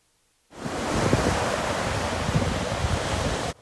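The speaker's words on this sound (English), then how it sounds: "The surf was up. In fact, many of the surfers drove up here from Myrtle Beach. The waves are better here" Ocean surf breaking at Holden Beach as a hurricane passes offshore, a steady broadband roar of waves starting abruptly and continuing loud and close with wind buffeting the microphone.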